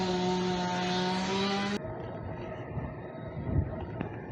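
A boat's motor running on a lake: a loud, steady droning engine with a whining tone that cuts off abruptly, leaving rumbling wind and water noise.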